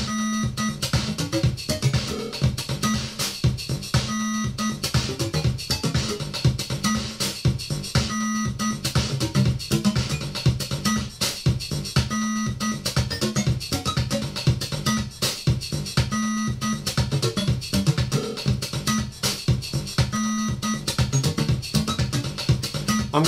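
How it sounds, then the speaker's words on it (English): Programmed drum pattern played back from a Digitech unit used together with a TB-AY-3, running as a steady, dense electronic loop with regular beats and busy high percussion throughout, with no voices. "I've already programmed another drum pattern, which is actually coming directly from the Digitech itself."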